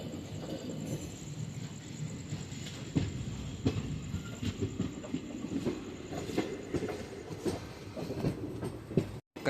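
Manuguru Superfast Express rolling along the rails at night, a steady loud rumble with repeated clickety-clack wheel beats over the track joints, continuous and close throughout.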